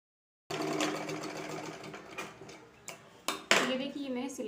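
Electric sewing machine stitching a seam through blouse fabric and its lining, a fast rattling run of stitches with short pauses and clicks, close and fairly quiet, with a brief voice near the end.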